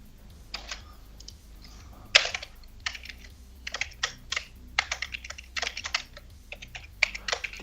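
Fingers type on a Microsoft ergonomic keyboard in quick bursts of soft plastic key clatter, irregular taps clustered into short runs with brief pauses, close and clear with no talking.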